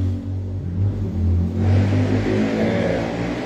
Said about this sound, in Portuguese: Essa barulhada de moto.